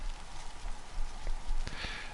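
Rain in the video game DayZ: a steady, soft hiss of rainfall with a few sharper drop-like taps near the end, heard alone.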